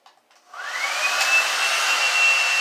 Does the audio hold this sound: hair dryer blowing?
yes